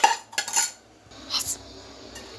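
A pan of fried vermicelli is lifted off a kitchen stove, with close metallic clatters and scrapes of cookware in a few short bursts, then quiet.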